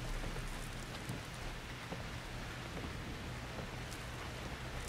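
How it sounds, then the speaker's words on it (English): Steady rain from a blood rainstorm in the horror game Outlast 2, a dense, even hiss with scattered drop patter and a low rumble running throughout. "Now with all natural blood rain."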